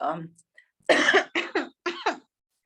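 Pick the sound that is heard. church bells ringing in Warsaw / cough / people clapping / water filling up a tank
cough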